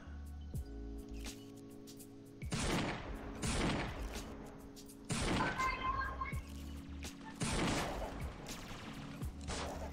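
Rapid gunfire from a sentry gun in the blocky shooter Murder Miners, coming in several loud bursts separated by short gaps, with game effects and occasional voices underneath.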